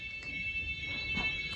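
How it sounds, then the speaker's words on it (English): A fire alarm sounds inside a chateau, a steady, shrill electronic tone holding without a break across the moment, over a low murmuring room background with no clear talk. "Someone appears to have set off a fire alarm."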